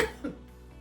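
A person gives a short cough, followed quickly by a second, softer cough, close to the microphone.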